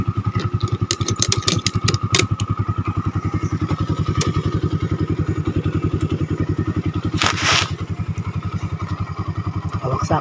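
A motorcycle taxi idling with a steady, close, rapid thumping engine pulse while a passenger climbs aboard, with a brief clatter partway through.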